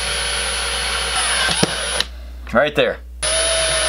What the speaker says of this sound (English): Now I'm gonna use just a standard hand drill to drill these out.